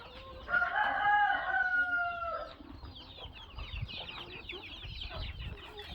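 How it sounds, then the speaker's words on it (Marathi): A rooster crows loudly and close by on a morning farm with hens, one long crow followed by scattered clucking and small bird chatter. "पक्षी सगळा चिव चिव चिव चिव करतोय"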